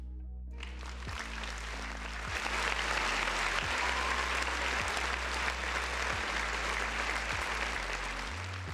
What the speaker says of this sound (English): Round of applause for the folks in the chat.